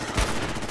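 Gunfire in the video game Fallout 4, a short loud burst of rapid shots and a heavy blast in under a second, dense and close.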